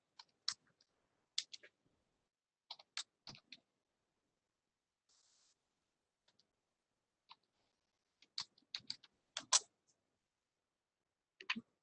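Clusters of sharp, sparse key clicks from a computer keyboard during a lab exercise, short bursts of typing separated by quiet pauses, close and fairly faint.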